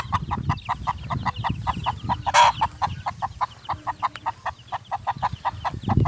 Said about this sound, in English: She's calling the chicks